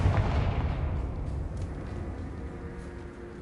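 A Confringo fire spell bursts in the Hogwarts Legacy video game, a heavy booming blast that opens loud and rumbles steadily down over a few seconds.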